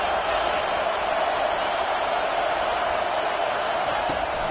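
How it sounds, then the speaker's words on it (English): A stadium crowd in a football video game roars during a 4th-down play, a steady broadband wall of cheering noise that stays loud and constant with no clear breaks. "This crowd bringing serious noise on this huge 4th down play."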